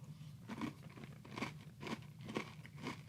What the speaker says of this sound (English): I like eating them reasonably crunchy, just like I like all of my cereals.